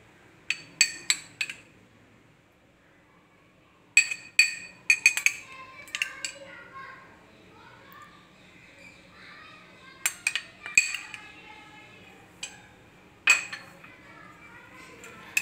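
A spoon mixes sugar, yogurt and tamarind pulp in a bowl, making sharp clinks and scrapes in clustered bursts separated by quiet pauses.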